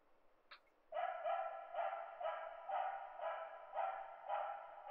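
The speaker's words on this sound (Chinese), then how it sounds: "可是一样就是狗叫而已哦" In the horror game 日常侵蝕恐怖-翌日, a dog barks in a steady rhythmic series of about eight woofs, moderately faint and without speech, after a brief high yip.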